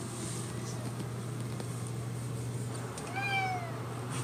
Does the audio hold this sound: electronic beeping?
no